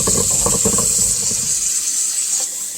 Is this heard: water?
yes